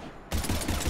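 Gunfire in the sci-fi shooter Mass Effect 3 bursts in after a brief quiet moment as a loud, rapid volley of shots that continues for the rest of the second.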